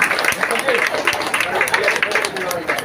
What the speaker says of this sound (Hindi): एक साथ सभी कोई तालियां बजाएं